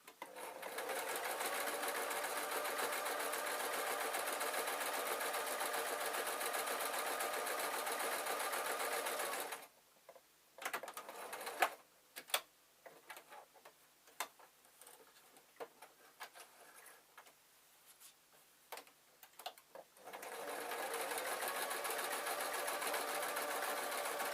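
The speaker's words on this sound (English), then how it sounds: "I'm just going to sew down to the bottom" Sewing machine stitching a hard-wearing peg bag, a long steady mechanical hum at the start and again at the end, separated by quiet clicks and fabric handling.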